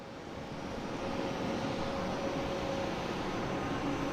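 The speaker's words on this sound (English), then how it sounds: "We got a JetBlue coming in from Raleigh" JetBlue Airbus A220 from Raleigh-Durham arriving at Boston Logan airport, a steady distant jet roar with a faint tonal hum, rising gently in the first second and then holding level.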